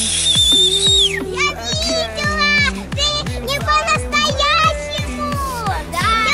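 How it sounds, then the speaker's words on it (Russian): Shrill whistle tones rise and fall over children's voices and chatter, close and loud, with rapid repeated sounds throughout, at a tourist camp near Lake Baikal. "Нет, это свисток."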